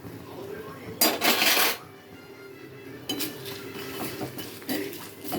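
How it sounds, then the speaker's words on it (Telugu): Peanuts are stirred into hot tempering with dried red chillies and curry leaves in a pan, giving scraping, clinking strokes of a metal spoon in bursts against a soft steady sizzle, with no talking. "పల్లీలు వేసేసుకొని కలుపుకుంటాం ఫ్రెండ్స్."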